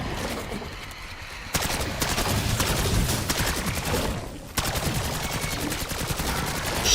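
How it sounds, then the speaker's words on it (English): Rapid automatic gunfire from a CR-56 AMAX rifle aimed at a zombie in Black Ops 6, two sustained bursts of loud, close shots with a brief pause between them. "I just shot our zombie."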